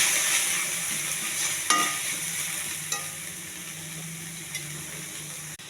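Green chillies with ginger garlic paste sizzle in a pan while being stirred for a spinach fry, a steady soft frying hiss with occasional clinks of a spoon against the pan.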